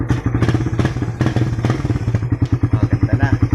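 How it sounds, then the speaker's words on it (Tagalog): A Suzuki Raider R150 motorcycle engine, freshly changed to Shell Advance 10W-40 oil, idles up close with a steady, rapid pulsing chug and light mechanical clatter. "Napakatahimik na makina niya."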